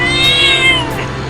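Cartoon cat meowing in a comedy animation, a single loud drawn-out meow with bright harmonic tones lasting about a second, heard alone.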